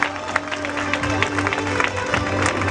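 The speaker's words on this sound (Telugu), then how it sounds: "గట్టిగా చప్పట్లు కొట్టి ఈ మీటింగ్లోకి వందనాలు తెలుపుతాము" Audience at a combined worship and stone-laying meeting on an open ground applauds loudly, a continuous patter of many hands clapping over a low steady hum, lasting almost three seconds.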